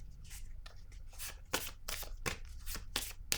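A tarot card being drawn from the deck, heard as close, rapid papery flicks and riffling snaps over a steady background hiss. No one speaks.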